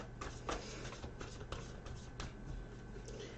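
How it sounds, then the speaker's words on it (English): Angel cards are shuffled in quiet bursts of soft papery riffles and slides, faint and close with no one speaking. "while I'm shuffling?"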